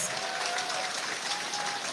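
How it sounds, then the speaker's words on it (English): Warm round of applause from an audience at a community recognition event, steady dense clapping throughout without pauses, moderately loud and fairly distant. "give a warm, very warm round of applause"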